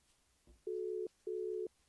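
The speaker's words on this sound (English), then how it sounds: "And we've got a ring." Two long, steady ringback tones sound over a phone line, each lasting about half a second with a short gap between, clear and moderately loud over a quiet background.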